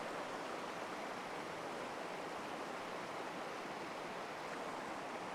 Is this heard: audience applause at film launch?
no